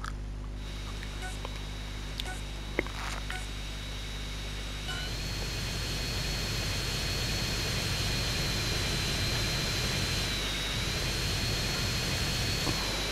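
A jet aircraft's engine in GTA San Andreas: The Definitive Edition, a steady loud roar with a high whine that swells and holds after a few seconds, continuous and close throughout.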